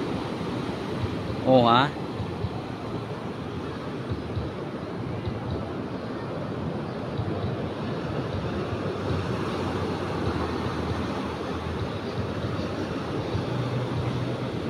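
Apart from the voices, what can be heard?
ocean waves crashing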